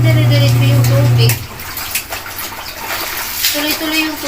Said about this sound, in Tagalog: Tuloy-tuloy yung tubig ko.